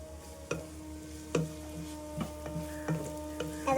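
Food sautéed in a frying pan with a gentle steady sizzle under repeated sharp scrapes and taps of a utensil stirring, close up with no talk.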